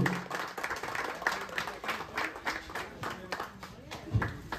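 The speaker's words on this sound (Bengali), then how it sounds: "সকলে একটা জোরে হাততালি দেবে" Applause from a crowd at a cricket tournament welcome in Dum Dum, a steady spread of clapping that carries on throughout, with some talking mixed underneath.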